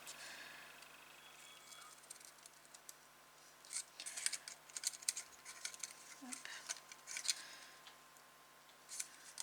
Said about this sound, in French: Je fais un petit V avec mes ciseaux.